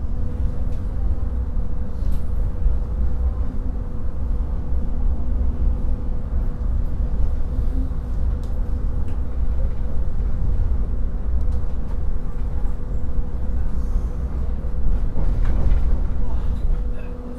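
Gajayana Luxury passenger train rolling along, a steady low rumble and hum heard from onboard for the whole stretch, with faint murmuring voices underneath.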